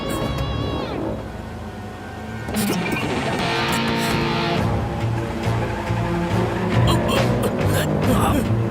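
A car is driven fast in a chase scene from a South Indian action film dubbed into Hindi, with a sustained engine roar, whooshes and tire noise. Music plays and voices shout over it throughout.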